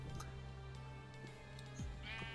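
A black sheep bleats in a video game, a few short wavering cries over a steady hum of background game music and ambience, fairly close and moderately loud.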